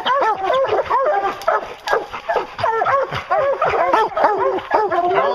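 Hunting hounds bay and yelp excitedly at a bear treed in the woods, a chorus of overlapping barks and whines from several dogs, loud and close, continuing without pause.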